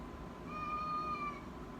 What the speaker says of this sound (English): Here's the cat again.